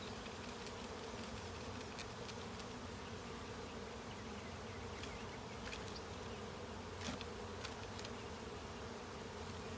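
A honey bee swarm in a cedar tree makes a dense, continuous buzz from many insects, with a few individual bees passing closer now and then, heard outdoors with no speech.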